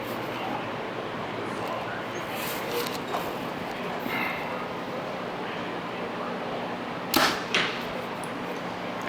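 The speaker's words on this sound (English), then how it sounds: "pull arrow, load up, knock, draw back, and fire" Archery speed drill with arrows pulled, nocked, drawn and loosed, mostly a soft steady rustle with a couple of sharp snapping releases near the end, fairly faint and outdoors.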